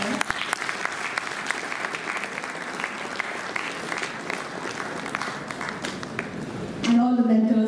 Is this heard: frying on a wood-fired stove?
no